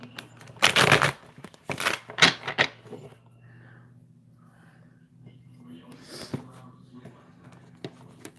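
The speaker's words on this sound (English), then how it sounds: "The waterfall shuffle." A deck of tarot cards gets a waterfall shuffle: several bursts of rapid riffling flutter near the start, followed by quieter handling and faint clicks over a low steady hum.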